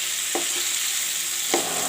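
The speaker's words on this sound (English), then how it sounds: "you can see the pumpkin frying" Steady, loud sizzling of pumpkin frying in hot oil in a karai, with a couple of soft stirring scrapes.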